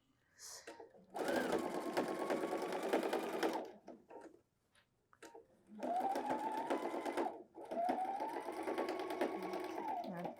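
A sewing machine stitching around a garment pocket seam in three steady whirring runs separated by short pauses, close and clear.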